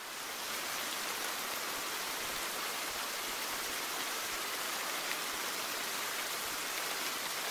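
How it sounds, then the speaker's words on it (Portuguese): Heavy rain in the horror video game The Bathhouse: Restored, a constant broad hiss of downpour that holds at an even, fairly loud level throughout with no other sounds. "Que chuva!"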